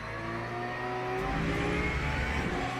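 LMP2 prototype race cars at Imola in an endurance racing game, a steady engine drone with whirring harmonics that swells into a louder, rising roar midway, continuous and fairly close with no talk.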